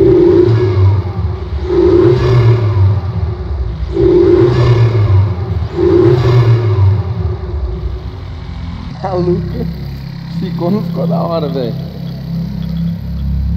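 A Polo GTS with a new intake and closed exhaust revs repeatedly, four loud rising-and-falling blips in a steady rhythm, then settles into a lower idle while someone talks over it.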